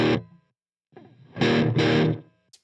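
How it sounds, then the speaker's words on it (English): Short electric guitar notes played with a quick slapback echo from a UAFX Starlight Echo Station pedal: a brief strum, a pause, then two fuller chords that each carry a tight, close repeat. "So right now I have a really short slap."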